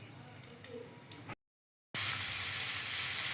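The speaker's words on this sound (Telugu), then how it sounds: "ఒక గరిట ఆయిల్ వేసుకుని పోపు గింజలు వెల్లుల్లి ఎండుమిర్చి జీడిపప్పు ఫ్రై చేసుకోవాలి" Steady crackling sizzle of mustard seeds, garlic, dried red chillies and cashews frying in hot oil, broken by a brief silence before the sizzling resumes louder and brighter.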